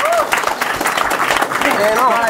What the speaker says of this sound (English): Hey, y'all clap that up.